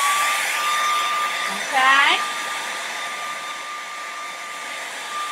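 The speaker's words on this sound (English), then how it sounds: "grab that hair dryer and dry that tree" A hair dryer blows on wet paint, making a loud, steady whooshing hum with a thin high whine; a voice speaks briefly over it.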